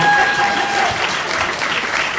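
An audience at a tech presentation event applauds steadily, a dense, loud wash of many hands clapping close by that continues throughout with no break.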